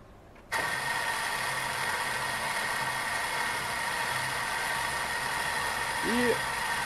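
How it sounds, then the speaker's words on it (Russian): A gear motor on a PS-250 universal screw oil press switches on abruptly and settles into a steady, close electric hum and whine, with a brief voice near the end. "Включаем мотор-редуктор."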